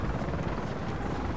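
A helicopter in the video game Battlefield Play4Free gives a steady, close rotor and engine drone for about a second and a half, with no talk over it.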